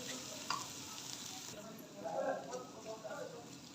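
Grated carrots roast in a pan for gajar halwa, giving a soft, quiet sizzle with occasional stirring scrapes, steady and close.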